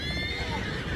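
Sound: horse whinnying in video game Red Dead Redemption 2

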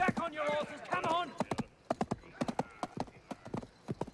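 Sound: horses clip-clopping as riders retreat

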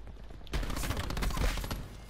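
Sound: gunfire in a video game

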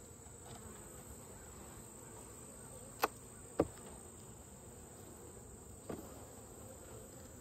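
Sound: honeybees buzzing in hive during frame inspection

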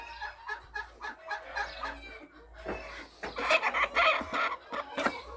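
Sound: hen clucking

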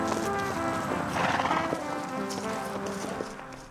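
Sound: horse hooves clip-clopping on a ride through Gettysburg battlefield

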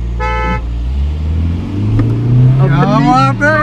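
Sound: car horn honking

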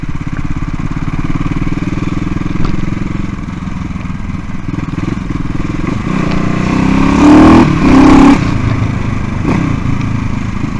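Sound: CCM Bobber motorcycle engine accelerating on the road

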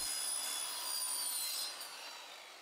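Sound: saw cutting off the bend of bent plywood

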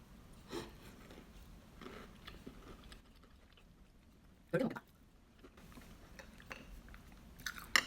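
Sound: chewing a homemade gluten-free cookie

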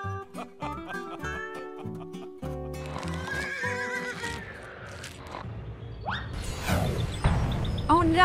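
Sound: horses neighing and hooves

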